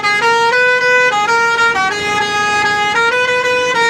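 A bus's musical multi-tone horn blares loud and close, cycling through a repeating melodic pattern of sustained notes for several seconds.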